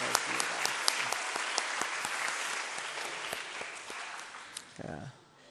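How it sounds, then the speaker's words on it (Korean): Sustained clapping from a church congregation giving thanks, bright and dense with individual sharp claps, gradually tapering off before a brief voice near the end. "한번 감사하는 박수 한번 칩시다."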